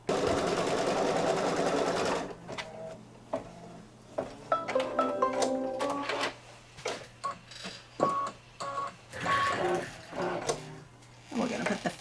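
An embroidery machine stitches the placement line for a border on fabric in a hoop: loud steady mechanical whirring at first, then intermittent short bursts of stitching and clicks, with a person talking throughout.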